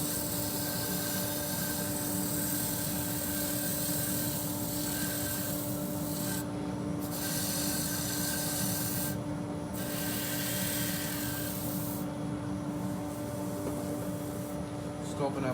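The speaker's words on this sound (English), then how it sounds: "I've just adjusted the rotary sander, so I've used the knuckle here and given myself more of a tilt there." Rotary sander fitted with 180 grit working a turning on a wood lathe, a continuous close rubbing hiss over the steady hum of the spinning machine, with brief dips where the sander lifts off.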